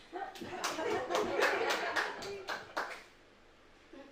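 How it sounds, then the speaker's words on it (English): Audience applause at a live comedy show, a burst of scattered hand claps for about three seconds that then fades out, with a little speech mixed in. "Got claps for some reason."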